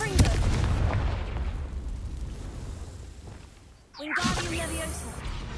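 A Confringo fire spell blast in Hogwarts Legacy, with a loud burst at the start that rumbles on, then a second sharp magical crackle and whoosh near the end, all under game ambience.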